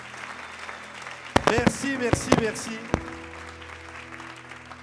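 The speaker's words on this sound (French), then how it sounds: "Alors, est-ce qu'on peut les applaudir très fort?" An audience applauds volunteers at a talk, the clapping soft and steady beneath someone speaking French close to the microphone.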